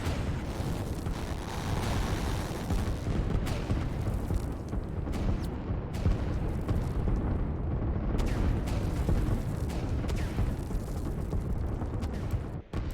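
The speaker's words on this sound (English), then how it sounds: "those artillery are easily able to hold off those infantry" Artillery firing in the strategy game Line War makes a dense, continuous barrage of booming blasts and rumble, loud and sustained with overlapping impacts across the whole stretch.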